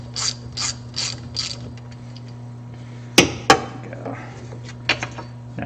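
A socket ratchet with a 5/32 socket turning a bolt on a retrofit vertical saw vise, several crisp clicking strokes up close, with faint ticks before and after.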